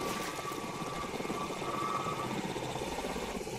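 A helicopter flies in Call of Duty: Modern Warfare 2, its faint, steady rotor drone continuous throughout with a thin whine on top and no talk.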